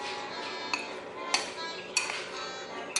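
A utensil clinks against a bowl while mixing dry ingredients for a carrot bundt cake, giving four sharp taps spaced about half a second apart over a faint steady background.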